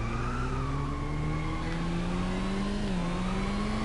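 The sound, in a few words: car engine and skidding in video game Inertial Drift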